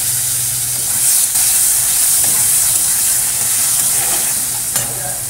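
Tomatoes hit hot oil already holding fried fish and black cumin seeds, giving a steady loud sizzle and hiss that runs unbroken throughout with faint stirring clinks.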